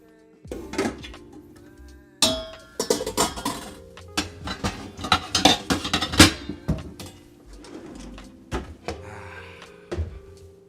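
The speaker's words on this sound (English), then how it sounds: "Let's get the big skillet. I want the big skillet." A big skillet and other pans clank and clatter in a home kitchen, with scattered metallic knocks and bangs in irregular bursts, some close and sharp, others lighter.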